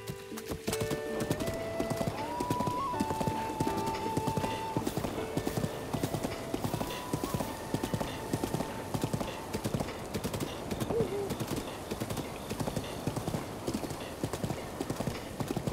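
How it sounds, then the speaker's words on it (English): Horse hooves clip-clop steadily and continuously in The Legend of Zelda: Breath of the Wild, with occasional whinnies and game music tones in the background. "I'm doing my best to make sure that the horse does not get injured."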